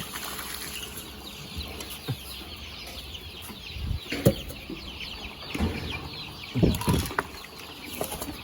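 Chickens cluck and scratch nearby while drinking, amid flapping wings and light splashing water, with scattered soft bursts of activity against a quiet outdoor background.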